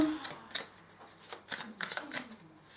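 Oracle cards being shuffled in quick riffling bursts, several close, crisp flutters spaced across a few seconds with faint background murmur.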